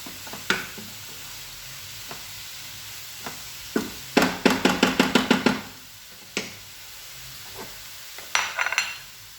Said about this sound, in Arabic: نحركوها هكا مره غير باش ما تلصقش لينا